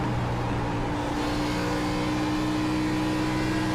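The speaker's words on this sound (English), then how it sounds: "Hear the throttle here." An iRacing race car at Dover, heard on board: a loud, steady engine drone holds throughout, its tone shifting slightly as the throttle changes, with no talk over it.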